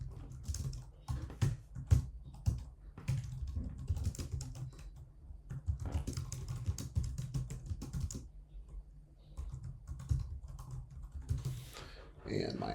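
Quiet, steady typing on a computer keyboard while entering headline text in a WordPress page builder, with irregular clusters of close key clicks and short pauses; a person talks at moments alongside the tapping.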